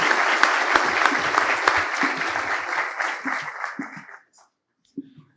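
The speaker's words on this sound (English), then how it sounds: "I'll ask everybody to join me in a last warm round of applause" A large conference audience gives a warm round of applause for a guest speaker, dense steady clapping that holds for about four seconds and then quickly dies away into near silence with a few stray sounds.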